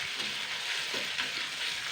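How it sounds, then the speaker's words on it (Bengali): Ginger garlic paste fries in a pan, giving a soft, steady sizzle that continues without a break and with no voices over it. "আদা রসুন বাটাটা দিয়ে দিচ্ছি একটু কম আছে ভেজে নিতে হবে"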